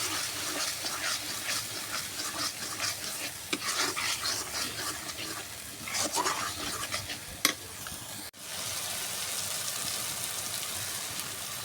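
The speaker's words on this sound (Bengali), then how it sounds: "এখন আমি মশলাটা সুন্দর কষাই দেব।" A spice paste of turmeric, cumin powder, coriander powder and whole spices fries in a pan for a duck curry, with steady close sizzling and spatula scraping, a sharp knock near the end, no talking.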